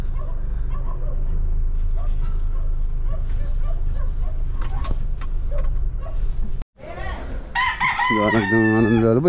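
Chickens cluck and call while going to roost on a farm in the evening, with a dog barking, followed by a rooster crowing loudly after a brief break.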